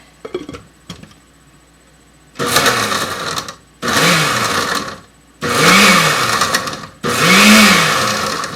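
A kitchen blender pulses gazpacho vegetables in four loud bursts, each a rising motor whir that cuts off abruptly, separated by short silences, after a few faint clicks at the start.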